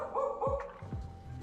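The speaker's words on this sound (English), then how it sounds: "Pardon the dog barking." A dog barks a few times nearby, each sharp woof dropping in pitch, over a steady background hum with no talking.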